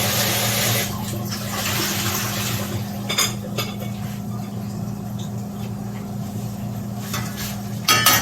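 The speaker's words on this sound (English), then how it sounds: "Pot is nice and boiling, bubbling." A pot of water boils on a home stove while ackee and saltfish are prepared, giving a steady, close rushing bubble with a few light clinks of utensils scattered through it.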